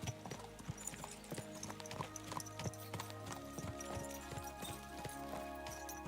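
Horses gallop in the medieval video game Kingdom Come: Deliverance 2, with steady clip-clop hoofbeats running right through alongside a horse's whinny and a layered game soundtrack.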